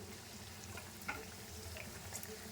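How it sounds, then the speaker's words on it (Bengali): Hing kachori frying in hot oil, a soft, steady sizzle and bubbling close by, with a couple of faint clicks. "বাকিগুলো সেম প্রসেসে ভেজে নিচ্ছি"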